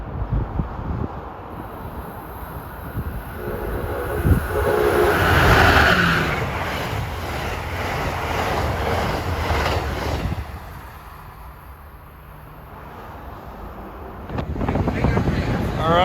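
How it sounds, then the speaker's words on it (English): Amtrak 19, the Crescent, passing through Edison, New Jersey, with a rising rumble and rhythmic clatter of cars rolling by under heavy wind buffeting on the microphone, then fading to a quieter rumble. "approaching at 2:53 is Amtrak 19, the Crescent from New York to New Orleans"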